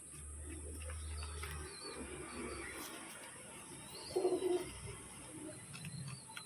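Four young pigeons kept at home give a faint, brief coo partway through, over a quiet room with a low steady hum.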